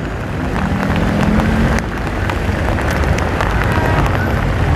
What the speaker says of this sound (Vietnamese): Trời bắt đầu mưa lớn rồi. Mưa xối xả luôn.